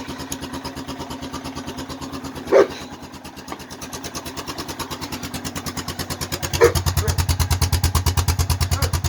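A Honda ATV's small engine idles steadily nearby with a regular putting rhythm, briefly blipping twice and growing slightly louder toward the end.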